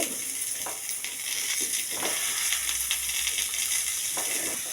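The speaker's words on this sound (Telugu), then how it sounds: "ఫ్రై చేసుకోవాలి తర్వాత మనం కట్ చేసుకున్న ములంకాయలు వేసుకోవాలి" Eggplant pieces fry in hot oil in a pan with a steady, even sizzle that holds throughout. A few soft stirring scrapes come through and no one speaks.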